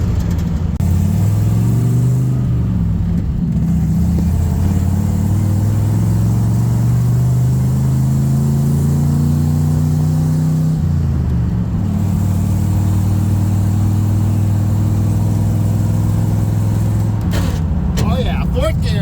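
The engine of an old truck, a 1964 Chevy Suburban or 1974 Ford 1-ton, drones loudly from inside the cab, rising in pitch through a gear, dropping at a shift into a fourth gear with bad synchros, then holding steady.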